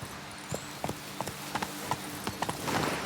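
Roach the horse gallops in The Witcher 3: Blood and Wine, hooves clip-clopping in a quick, steady rhythm at moderate volume against a soft outdoor background.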